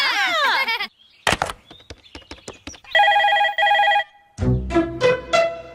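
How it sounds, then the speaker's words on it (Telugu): Telephone ringing in a Telugu comedy film scene, a loud electronic ring in two long bursts with a pause between, surrounded by sharp clattering hits and noisy effects before and after. "రింగ్ అవుతుందిరా."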